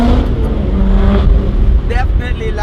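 An Alfa Romeo 4C Spider engine roars and builds under acceleration, loud and close, with a gear change and a brief higher whine near the end.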